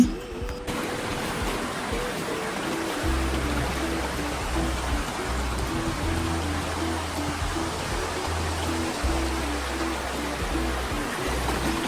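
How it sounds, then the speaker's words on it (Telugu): Constant roar of rushing, falling water at a waterfall in the rainy season fills the scene, with a low droning hum running underneath. "మొత్తానికైతే మనం జలపాతం దగ్గరికి వచ్చేసాం"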